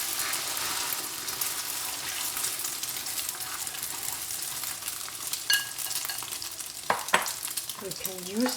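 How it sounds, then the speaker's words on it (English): Egg stir frying in a wok or pan for tomato and egg, a steady close sizzle with scraping spatula strokes and a few clatters toward the end. "now it's time to stir fry the egg."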